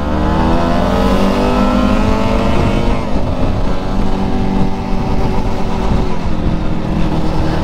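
A Kawasaki Ninja RR two-stroke motorcycle engine revs hard and close, its note rising and falling through the throttle with a raspy buzzing tone, alone without talk.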